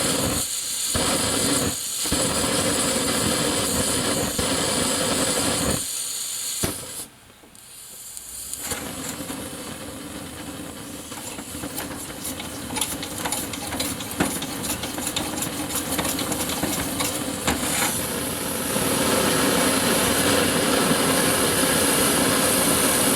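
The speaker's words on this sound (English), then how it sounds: "I'm going to dump a little white gas in here and see if I can't get this thing to do something." An Otto Bernz gasoline blowtorch burns white gas with a steady, close, hissing roar. The roar dips and sputters briefly partway through, then builds back to a strong, even flame.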